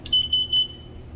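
A short series of high electronic beeps, about four quick chirps, from an LCN 6400 door operator during programming, sounds close and clear, then fades into quiet.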